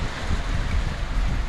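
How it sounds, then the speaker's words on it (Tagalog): Steady roaring typhoon wind under Signal No. 4 in Dinahican, Philippines, buffets the microphone, a dense low rumble with no pauses and no voices. "Umpisa na ang malakas na hangin."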